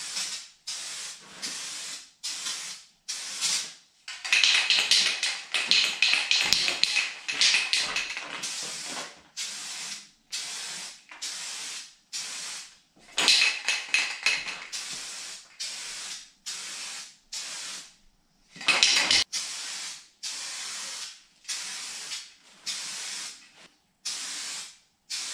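Rust-Oleum Turbo spray paint hissing from a can onto a rusty car hood in many short, close bursts, with a few longer sustained sprays between the quick repeated pulses.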